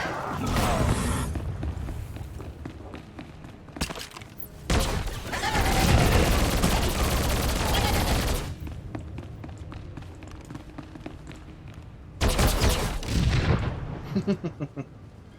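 Sniper gunfire and explosive bursts in the Star Wars: The Old Republic video game, with Imperial Agent combat coming in loud, rapid volleys separated by quieter pauses, two heavy bursts in the middle and one near the end.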